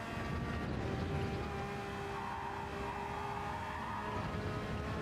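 A race car at the Nurburgring in Gran Turismo 7 roars continuously at high revs while its tires squeal through a corner, loud and steady throughout.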